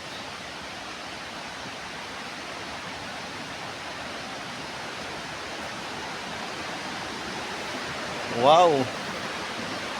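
Water flows with a steady broadband rush, like a stream, throughout. Near the end a voice briefly exclaims over it.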